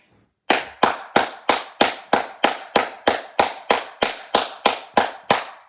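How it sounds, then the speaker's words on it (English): A football team claps in a steady, even rhythm, about fifteen sharp, loud claps in a row after a brief silence, with no talk over them. "You got to clap it up for that once again, man."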